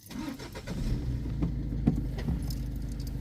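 A car engine cranks and catches, settling into a low rumbling idle with a few small clicks and rattles nearby.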